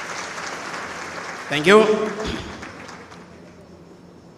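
Applause from the audience at a social work symposium, moderately loud at first and fading toward the end, with a short spoken thanks over it.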